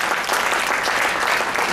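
Steady, dense applause from a school audience at a children's poetry event, many hands clapping evenly throughout the short stretch with no talk over it.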